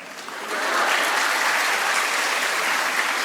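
Audience applause at a Tamil motivational talk, a dense steady wash of many hands clapping that swells after a half-second start and holds loud and even throughout.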